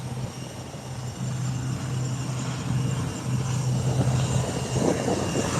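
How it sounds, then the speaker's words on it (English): An ATR 43 propeller airplane taking off down the runway, a steady droning engine roar with a low hum, held at a constant loud level from a distance throughout. "We're about to see the takeoff of the ATR 43. And it starts its journey down the runway."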